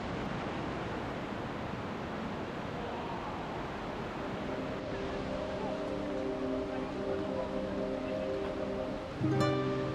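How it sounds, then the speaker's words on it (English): Cold, snowmelt-fed Parkna River rushing through a gorge in the Alps, a steady broadband roar of flowing water heard close and continuous, with some tonal sounds rising over it near the end. "The river flowing through here is the Parkna River, and it's fed by snowmelt from the Alps"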